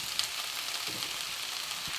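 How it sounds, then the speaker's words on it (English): Onions and spring vegetables saute in a hot pan for a vegetable strata, giving a steady, even sizzle with a faint scrape of stirring partway through. "Our onions are sauteing nicely, and let's add these beautiful spring colors"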